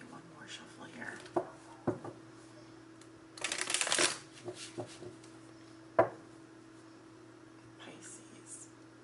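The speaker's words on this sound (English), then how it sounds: "Telling me one more shuffle here." A deck of tarot cards is shuffled in short, soft bursts of papery riffling and tapping over a low steady hum, with quiet speech nearby.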